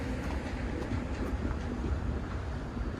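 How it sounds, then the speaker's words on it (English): Disney World monorail train gliding past at Magic Kingdom in the morning, a steady close rumbling roar with faint rhythmic clatter throughout. "Monorail!"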